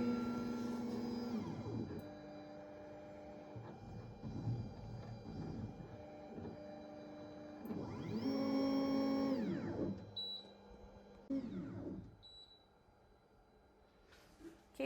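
An xTool M1 Ultra machine draws with a black pen, its motors whirring and whining in rising and falling tones, with a louder sweeping run midway and short high beeps near the end, with no talking.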